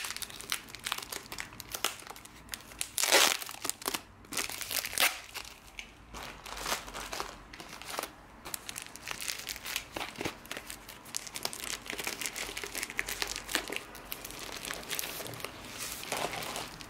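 Plastic packaging of a diamond painting kit is pulled open, producing close, continuous crinkling and crackling with sharp tearing bursts and handling rustles.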